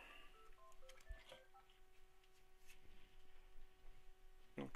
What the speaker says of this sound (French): Désolé pour le téléphone.